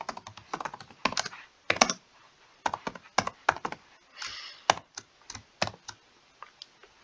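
Code typed on a computer keyboard in a PyCharm Python tutorial, close, crisp key clicks in quick irregular bursts with short pauses between words.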